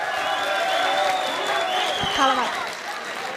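Audience applause at an Eid concert, a continuous wash of clapping with someone talking over it partway through, fading slightly toward the end.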